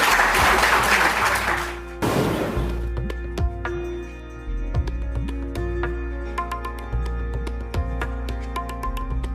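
Audience applause welcoming poet Jigna Mehta at the launch of her ghazal collection during a poetry gathering: a dense burst of clapping for about three seconds, then it gives way to sparse tones and light knocks with no speech.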